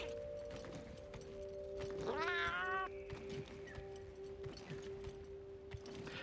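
A cat character meows in Monster Hunter Wilds: one drawn-out, wavering call rising and falling over steady game music and ambient hum.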